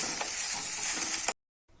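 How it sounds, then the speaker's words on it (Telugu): Gongura leaves and tamarind frying in oil make a brief, dense, close sizzle with a stir scrape, then cut off suddenly into silence. "ఇప్పుడు మనం కొంచెం నూనె వేసుకొని సరిపోయే చింతపండు వేసుకొని గోంగూరని నూనెలో వేయించుకుందాం."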